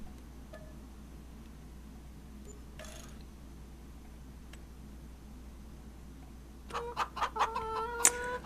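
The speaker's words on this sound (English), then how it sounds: "I don't want to kill my roosters." Roosters in the video game Farming Simulator 25 give a burst of quick clucks near the end, after a long stretch of quiet ambient hiss broken by a soft rustle.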